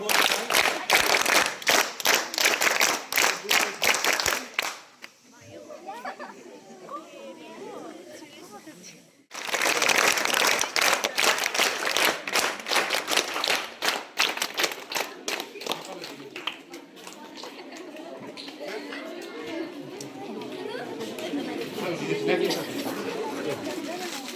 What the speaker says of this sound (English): Clap, go!